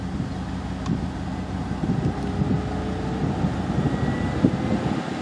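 A Ford F-150's air conditioning blower fan running at full speed makes a steady, even whoosh of rushing air under a low cabin rumble, continuous and fairly loud.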